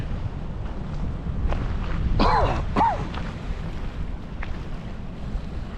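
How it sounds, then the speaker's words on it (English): Wind buffets a GoPro Hero10 microphone with wind noise reduction on beside a river, a continuous low rumble, while faint bird calls chirp briefly in the middle. "when there is a little bit of wind around me"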